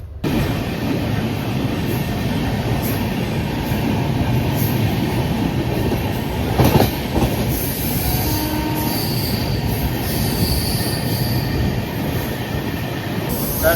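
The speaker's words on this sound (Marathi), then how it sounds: "लोणावळ्याच्या घाटात मस्त जाते ट्रेन घाटातून" The 22159 Chennai Superfast Express runs through the Lonavala ghat, heard from on board as a loud, continuous roar of wheels on rail with sharp wheel squeals on the curves and occasional clacks, with no voices.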